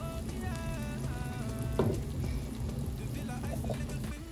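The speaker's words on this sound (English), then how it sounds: "Now I'm going to pour the pepper sauce I made and going to fry this down" Homemade pepper sauce sizzling and frying in a pan over sautéed onion for groundnut stew, a soft continuous crackle with a brief louder spatter, faint and close, with a few quiet background sounds.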